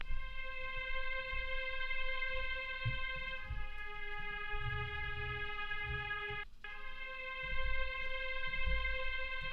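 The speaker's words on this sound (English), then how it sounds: "This is just some strings, also from BBC Orchestra." Sustained orchestral string chords from a BBC Orchestra sample library play in a simple repeating pattern, swelling gently with a brief dropout near the middle, over a low rumbling bed, with no voices.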